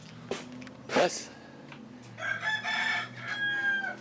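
A rooster crowing from outside a farm feed store, a drawn-out crow rising over low background noise after a brief earlier sound, fairly near and clear.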